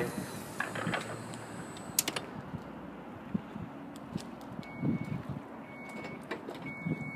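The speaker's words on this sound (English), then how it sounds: "It does have the power sliding side doors." Mechanical whirring and clicking of a 2014 Chrysler Town & Country minivan's power sliding side door in motion, with a latch clunk and short electronic beeps, close by and fairly quiet.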